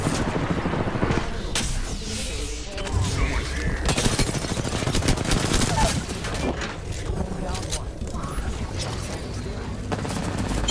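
Rapid bursts of automatic gunfire and impacts in an Apex Legends match, dense and loud for the whole stretch, with a player talking over the shooting.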